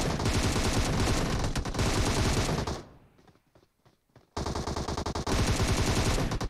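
PUBG Mobile gunfire: dense, loud automatic bursts, close and continuous, break off for a short quiet stretch before the rapid firing resumes just as hard.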